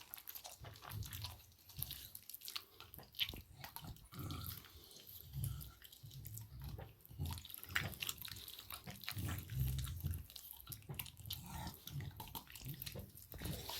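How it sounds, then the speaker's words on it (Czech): Liquid is poured into a small cup of crushed pill powder for a dog and stirred, a steady wet trickle and swirl over a noisy, fairly loud background with no talk. "Nalijte malé množství tekutiny do kelímku s práškem a zamíchejte."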